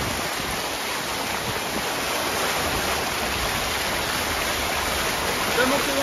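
Torrential rain pours down in Saint-Joseph, Réunion, as a loud, unbroken hiss of water, dense and even from start to finish, like rushing runoff.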